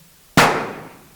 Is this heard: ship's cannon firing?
yes